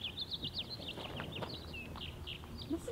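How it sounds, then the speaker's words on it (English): Several birds chirp and trill in quick bursts outdoors, bright and fairly close, with soft rustling and low background noise underneath. "Listen to those birds."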